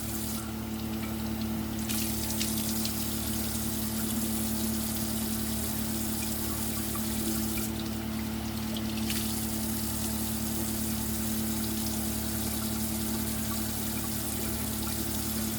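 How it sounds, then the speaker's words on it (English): Cold water runs from a bathroom tap into a sink in a steady continuous gush with a constant hiss and a low hum underneath. The flow is close and loud, with brief changes in spray texture and no talking. "Turn your cold water on, your hot water off, cold water on."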